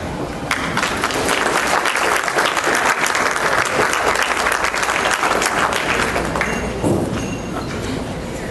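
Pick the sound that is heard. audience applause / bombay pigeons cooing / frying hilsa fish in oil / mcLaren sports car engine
audience applause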